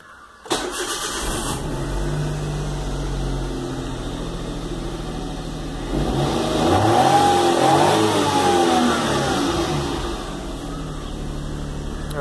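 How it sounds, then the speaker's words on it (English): Suzuki Alto car engine cranks and catches after a brief start, settles into a steady idle, then revs up for a few seconds before dropping back to idle, close and clear. "Just starting my vehicle now."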